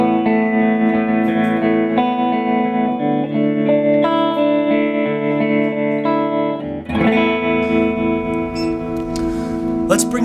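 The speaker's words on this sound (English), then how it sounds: "So middle pickup, very liquidy, very reminiscent of some older Fender tones." Electric guitar on its middle pickup through a Fender Excelsior 13-watt amp with brightness set a little under halfway, ringing out sustained, liquid, vintage-style chords and notes with a shimmering wash, strummed anew partway through.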